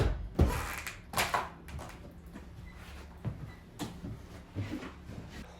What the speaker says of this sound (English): now I can start test fitting all the cupboard doors